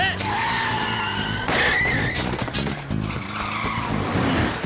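Cartoon car speeding away with screeching tire squeal and a roaring engine, loud and close, with a voice speaking over part of it.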